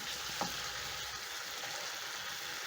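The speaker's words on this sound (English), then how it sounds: "Then I'm going to add my fish in my pan. Stir in." Fish being stirred into a hot frying pan for a fish stew gives a steady, close sizzle of frying, with one brief scrape of stirring early on.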